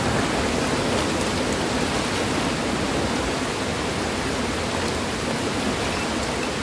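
Rain pours down beside a river in the upper reaches of the Belaga, a steady hiss of falling drops on surfaces and water, even and moderately loud throughout, with no talking.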